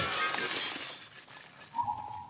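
Glass shatters in The Last of Us Part II, a loud close crash with bright scattering fragments that tinkle and fade, followed by a faint steady tone, with no talking over it.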